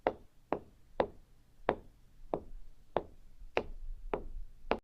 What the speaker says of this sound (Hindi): फिर एकदम से दरवाजे पर दस्तक होती है